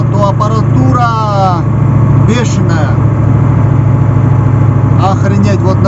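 Loaded truck climbing a winding mountain serpentine road in fourth gear, its engine droning steadily and loudly throughout, with someone talking over it.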